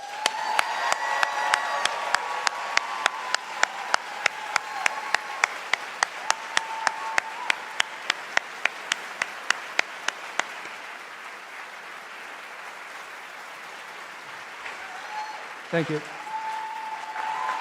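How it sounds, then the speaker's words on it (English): A crowd applauds a graduating law school class at a ceremony, with one loud, evenly spaced clap standing out near the front. The clapping stops after about ten seconds, leaving quiet room tone, and a brief word is spoken. "please join me in a round of applause for the Schulich School of Law's class of 2024."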